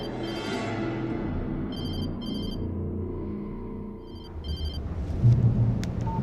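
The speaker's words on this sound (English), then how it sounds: "She was startled by the phone." A telephone rings in the video game Alan Wake Remastered, two short bursts of electronic bell tones over a low ambient rumble, followed by a louder deep thump near the end.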